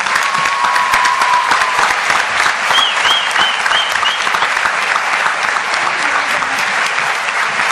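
Loud, dense applause from a comedy theater audience, continuous close-up clapping with a few faint whistles and no pause across the whole stretch.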